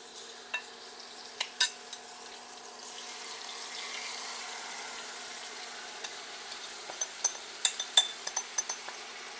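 Marinated prawns go into two spoons of hot oil in a pan, giving a soft, steady sizzle with scattered crisp pops and spits that thicken toward the end, and nobody talks.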